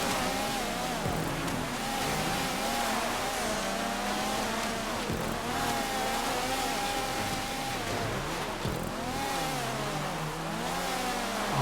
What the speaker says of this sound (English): I do need to initiate a slight drift on this.